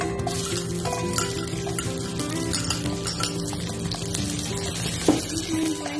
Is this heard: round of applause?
no